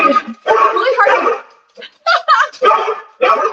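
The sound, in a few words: dog barking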